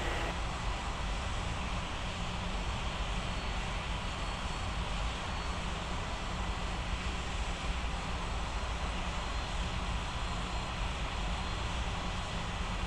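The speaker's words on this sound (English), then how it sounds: "cleared for takeoff runway 18." An airplane on runway 18 at Rocky Mountains Regional International Airport holds a steady, even engine drone, faint and unchanging throughout, with no voices heard.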